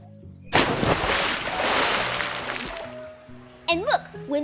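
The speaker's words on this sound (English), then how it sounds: "when that bucket fills up, it splashes water on everybody" Big water park bucket on the MSC Seascape cruise ship tipping and dumping water, a broad loud rushing splash lasting a couple of seconds, then tapering off as voices and excited shouts rise over it.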